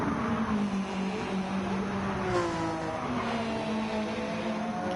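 Race car engines in Gran Turismo 7 drone steadily and closely for the whole stretch, with pitches rising and falling as the cars shift and accelerate. No voices are heard.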